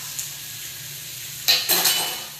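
Beans cooking at a full boil in a pot, a faint bubbling hiss that gives way to a few quick spoon scrapes and clinks against the pot near the end.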